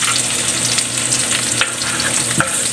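Garlic and onion fry loudly in a hot pan for adobo octopus, a dense continuous sizzle with occasional stirring scrapes, close and alone.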